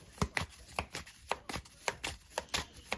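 Tarot cards are shuffled by hand in quick, rhythmic riffle bursts, roughly a dozen crisp papery snaps close to the listener with brief gaps between them.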